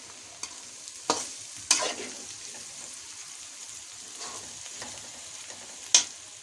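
Shredded cabbage and carrot are stir-fried for egg fried rice in a hot pan, a soft steady sizzle broken by several sharp spatula scrapes and knocks, close up with no talking.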